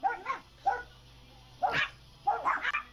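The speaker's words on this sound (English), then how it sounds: "I gotta go let my dogs outside." Dogs barking at home, four sharp bursts of barks and yips spaced across a few seconds, fairly close and loud, with quiet gaps between them.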